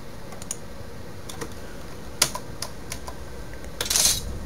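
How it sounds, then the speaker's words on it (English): Someone slams keys on a computer keyboard while gaming, producing scattered sharp clicks and taps spread out over a few seconds, ending in a brief rapid flurry of heavier strikes, close and fairly quiet. "I'm gonna slam keys."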